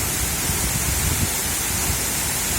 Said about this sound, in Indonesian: kita akan lewatin air terjun Efrata ini dulu